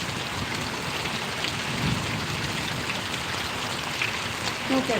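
Steady rain pours on surfaces in Parvadi village, Gariyadhar taluka, a dense unbroken hiss heard close and fairly loud throughout, with a faint murmur of voices underneath.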